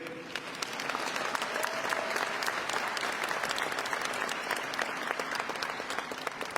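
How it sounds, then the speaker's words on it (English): An audience in an 8,000-seat convocation center at a Georgia valedictorian ceremony gives a loud, steady round of applause, dense clapping filling the hall without a break for the whole stretch. "Let's give another round of applause."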